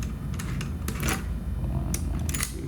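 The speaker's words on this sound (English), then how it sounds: "First thing you're going to want to do is take off the 2 screws on the back here." Two screws being taken off the back of an EAX-500 door cylinder, giving a few sharp clicks and scraping turns from a close, quiet hand tool over a steady low hum.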